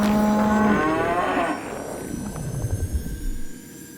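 A cow lets out a long, low moo that rises and then trails off into a breathy fade, close and fairly loud, with a faint background rumble.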